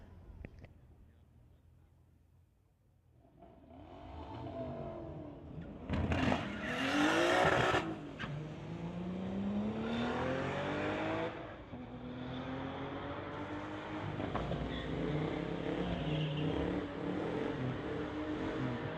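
A 1992 VW Jetta and a 1992 VW GTI drag racing at a street-legal event: engines build from quiet into loud revving launches, with a tire squeal and rising engine pitch as the cars pull away, then a sustained roar.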